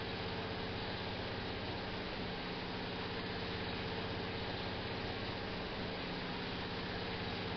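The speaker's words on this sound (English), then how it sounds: "The loud roaring engines of a Sprinter." A Sprinter diesel multiple unit in a British Rail train simulator game gives off a steady, low engine drone with a humming, harmonic throb, constant and unbroken with no voices.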